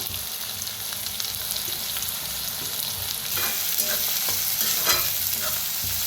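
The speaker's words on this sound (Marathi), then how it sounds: "कांदा छान असा भाजायला लागलाय लसूण हिरवी मिरची त्याच्यातच टाकूया" Onion, garlic and green chili fry in a pan for bharit, a steady close sizzle broken by scraping stirring strokes that grow busier toward the end.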